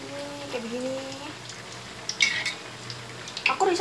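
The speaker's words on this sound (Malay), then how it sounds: "Kita goreng risol." Risoles frying in hot oil give a soft, steady sizzle with small crackling pops, moderately close, with some tonal voice-like sounds early on and a few sharper clinks later.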